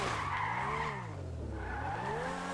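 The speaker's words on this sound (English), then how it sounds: "it does spin out and do donuts nicely" A Grotti X80 Proto in GTA 5 spins out doing donuts, its tires squealing continuously under a steady engine drone that rises and falls in pitch, close and loud with no voices.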